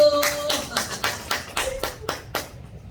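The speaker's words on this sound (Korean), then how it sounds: "박수 한번 쳐주세요" A church congregation gives a short round of clapping, about ten distinct loud claps at a brisk, slightly uneven pace before it stops.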